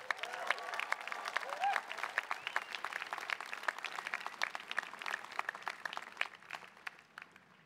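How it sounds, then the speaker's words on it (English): A Stanford graduating class and audience applaud at a baccalaureate ceremony, with sustained clapping in which many individual claps stand out, gradually thinning and fading toward the end. "Please give yourselves the biggest round of applause."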